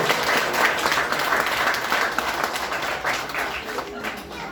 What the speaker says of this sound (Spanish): ¿Cuánto quiere soltar un aplauso a nuestro Señor Jesucristo?